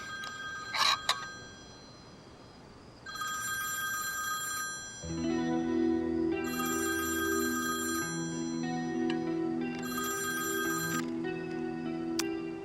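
A telephone rings in repeated bursts of electronic trilling, loud and close, over a low sustained musical drone in a Hindi-dubbed drama scene; no one speaks.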